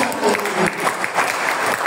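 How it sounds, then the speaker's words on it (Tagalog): Applause welcoming Pastor Henry Bautista at a church service, a steady burst of clapping from the congregation lasting about two seconds. "Isang malakas na palakpak."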